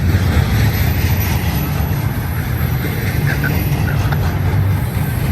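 A BNSF eastbound Z freight train on main track 2 at Cajon Pass rumbles past close by, a continuous heavy roar and clatter with faint squealing tones, no talk.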